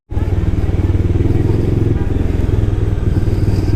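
A motorcycle engine on a mountain ride from Kullu to Dharamshala starts up abruptly and runs close by with a steady, pulsing low thrum that holds even for several seconds.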